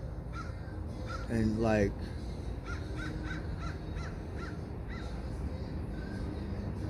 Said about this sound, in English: Mama Crow, come over here, Mama Crow. Let me see you.